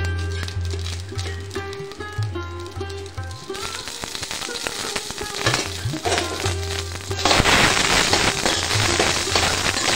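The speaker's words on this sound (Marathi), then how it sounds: "आणि लगेच मटरचे दाणे सुद्धा भाजून घेणार आहे। त्याच्यामध्ये सुद्धा थोडं तेल घालणार आहे।" Green peas roasting in a little oil in a pan for a Marathi pea amti, a steady dense sizzle and crackle that grows louder and brighter partway through, close, with a low background hum and no talk.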